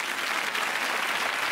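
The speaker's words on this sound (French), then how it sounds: "On applaudit." A studio audience at a televised magic show applauds, a steady, full burst of clapping from many hands throughout the moment, with no voices over it.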